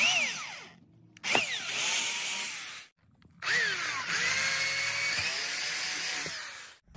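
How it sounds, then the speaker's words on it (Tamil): A power drill bores two holes in plywood for a small homemade bike build, whining in two bursts that spin up and wind down, separated by a brief pause, loud and close with no talking. "இப்போ மார்க் பண்ண 2 இடத்துலையும் 2 ஹோல்ஸ் வந்து போட்டுக்குவோம்."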